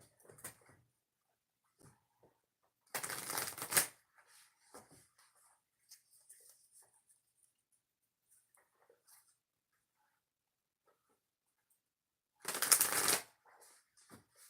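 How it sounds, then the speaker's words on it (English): Oracle cards are shuffled for a pick-a-card reading in two short, crisp riffling bursts separated by a long quiet stretch with faint rustles and small handling noises between them. "2 shuffles for pick a card reading number 8"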